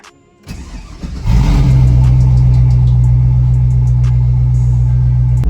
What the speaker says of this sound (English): Believe it or not, man, this truck does pop and it does bang.